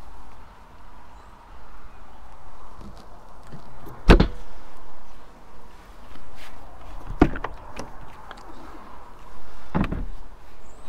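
Habitation door on a Burstner Lyseo 590 Harmony motorhome, a hard-tail premium door, gives three sharp knocks and clunks as it is opened and shut, spaced several seconds apart over quiet background.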